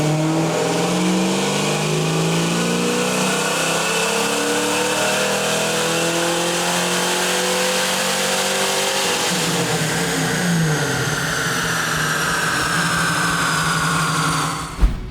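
A 1994 Cobra with a swapped-in 5.8L V8 revs hard on a dyno, its loud, steady engine roar climbing in pitch through the pull before easing off near the end, close and continuous with no talk.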